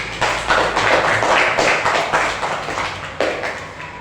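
Fifth-grade class clapping for two classmates in a school lesson, a burst of children's applause with uneven overlapping claps swelling and fading in waves for a few seconds.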